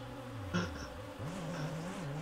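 Game bees buzz at a bee farm in Roblox Ultimate Driving, a wavering droning hum that rises and dips, loud and close throughout.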